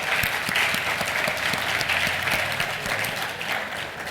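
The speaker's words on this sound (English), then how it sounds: "please give one more round of applause to the designers" An audience at a teen design fair gives the designers a round of applause, dense clapping that is loud and sustained for the whole stretch, with a faint murmur of crowd beneath.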